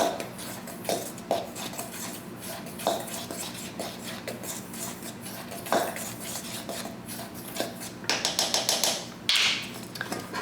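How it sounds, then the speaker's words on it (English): Dry cake ingredients, flour with baking powder and salt, are stirred in a bowl with a utensil, giving repeated clinks and scrapes against the bowl, with a few louder taps near the end. "And I mix my dry ingredients"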